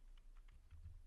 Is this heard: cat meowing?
no